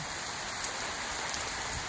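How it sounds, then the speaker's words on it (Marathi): Heavy rain pours outdoors in hilly country, a dense, unbroken hiss of drops hitting surfaces, loud and steady throughout with no voices. "लय जबरदस्त पाऊस आहे"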